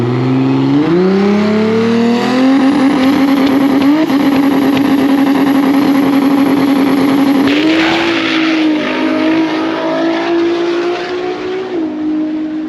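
A loud race car at a drag strip during a Cash Days event, engine note climbing steadily as it accelerates down the track, holding a sustained roar before tapering slightly near the end.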